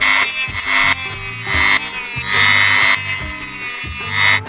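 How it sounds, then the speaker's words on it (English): A power grinder works down the metal nose of a car starter, giving a loud, steady, high-pitched grinding whine with a motor hum beneath it and brief dips as the tool is eased off. "Just gotta grind it down a bit, then I'm happy."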